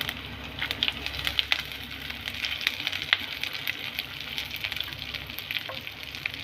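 Curry leaves crackle and sizzle in hot oil for a cucumber pickle, a dense, steady frying hiss peppered with sharp pops from start to finish, close and fairly loud, with no talking.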